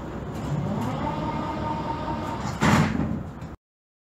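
Doors of an 81-71M metro train slide shut at a station, a steady rumbling hiss rising into a louder burst near the end before cutting to silence; no talking.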